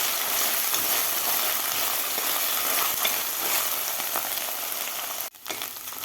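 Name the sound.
onion and ginger-garlic paste frying in a pan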